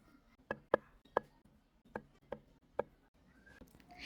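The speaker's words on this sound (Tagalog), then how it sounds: "Hiniwa ko nga pala yung ating saba ng 4 na piraso" Saba bananas are cut into pieces with a knife on a board, giving about seven sharp chopping knocks at an uneven pace, close and fairly quiet, with no talking.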